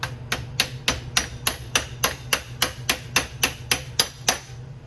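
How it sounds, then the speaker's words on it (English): Light, evenly spaced hammer taps drive a bearing seal into a Honda power steering pump during a rebuild, about fifteen crisp metallic strikes in a steady rhythm, close and clear, with no talking. "Light tap till it bottoms out."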